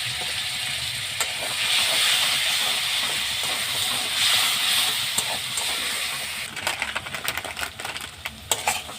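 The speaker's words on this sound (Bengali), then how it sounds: "এর মধ্যে আমি সামান্য একটু জল দেব, সামান্য একটু জল দেব। এই জল দিয়ে মশলাটাকে আমি ভালো করে কষে নেব।" Masala frying in a pan for cabbage dum hisses and sizzles loudly as a little water is added, a continuous close steam hiss that slowly eases into crackling pops and spits toward the end.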